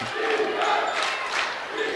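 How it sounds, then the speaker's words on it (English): Crowd at a high school boys basketball game between Chippewa Falls and Marshfield roars and cheers after a made three-pointer, a loud, sustained wash of voices filling the gym with no clear talk on top. "That'll get the crowd on its feet."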